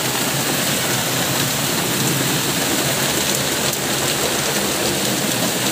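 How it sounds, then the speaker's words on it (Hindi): Heavy rain pours down in a dense, steady roar, loud and close, with no break. "कितनी ज़ोर से बारिश आ रही है।"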